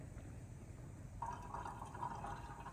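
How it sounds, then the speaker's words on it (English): Water poured for drip coffee at a campsite in Death Valley National Park, a faint steady trickle that starts after a quiet pause and runs on, heard close but soft. "Making some coffee, of course. Some drip coffee."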